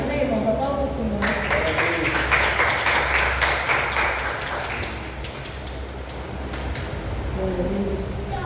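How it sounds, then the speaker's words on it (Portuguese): A church congregation applauds at a worship service, with steady, dense clapping that swells for a few seconds and then fades under continuing speech. "Aplausos ao Senhor."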